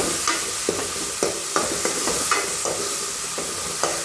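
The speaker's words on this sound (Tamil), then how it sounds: "சுண்டக்காய் சேர்த்துக்கிட்டு நல்லா வதக்கணும் இப்போ சுண்டக்காய் வதக்கியாச்சு" Turkey berries sautéing in oil for a Tamil sundakkai sambar, an even crackling sizzle with regular spatula scrapes against the pan every half second or so, close and steady.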